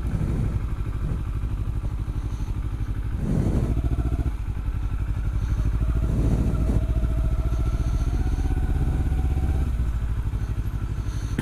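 Motorcycle engine running steadily close by for the whole stretch, a low rumbling drone that swells slightly around the middle, with some clattering mechanical noise and no talk.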